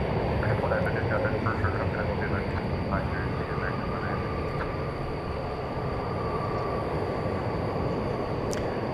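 A Cargolux Boeing 747-8 in 50th anniversary livery, arriving from Anchorage at DFW Airport at night, rumbles steadily in the distance under continuous talk.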